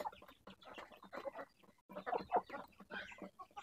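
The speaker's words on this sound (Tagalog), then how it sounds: "Ito yung mga alaga natin dito sa labas, mga manok, mga samo." Several Japanese Shamo chickens cluck close by outdoors in busy, uneven bursts, with a short pause before the clucking picks up again.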